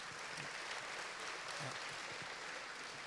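Audience at a Salman Rushdie talk applauding the interpreter, a steady, fairly faint wash of many hands clapping, continuous and even throughout.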